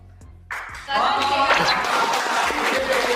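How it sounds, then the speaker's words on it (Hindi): A studio audience at a flirting show breaks into clapping after a short pause, a dense, steady patter of applause that swells and holds, with a voice talking over it. "अरे तालियां बजा रहे हो"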